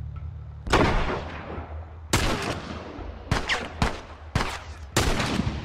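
Several sharp gunshot blasts from The Last of Us ring out alone, each starting abruptly and decaying over a second or so, spaced irregularly with a couple of quick shots close together near the end.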